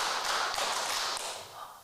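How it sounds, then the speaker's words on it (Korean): A lecture audience claps together in a patterned rhythm, a dense, continuous wash of hand claps filling the room before easing off near the end. "박수 5번 시작"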